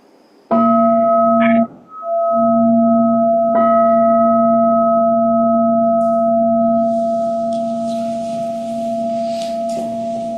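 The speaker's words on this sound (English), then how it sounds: "Will the Doan strike the bell," Meditation bell struck before a dharma talk, ringing with a clear sustained tone, then a second strike layered over it, both long and slowly fading in a quiet room.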